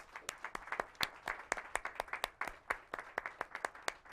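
Sparse, quiet applause from a small audience at a local evening show, distinct individual claps in an irregular rhythm, fairly faint and close.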